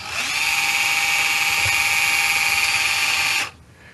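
A power drill used as a guitar string winder whines at a steady high pitch for a few seconds close by, then cuts off abruptly, leaving quiet.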